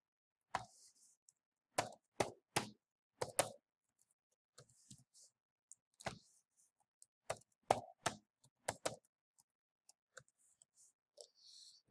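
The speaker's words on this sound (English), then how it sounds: "So I'm gonna go ahead and just type this in here." An email address is tapped out on a computer keyboard in quiet, close, irregular keystroke clicks, sometimes single and sometimes in quick clusters, separated by short pauses.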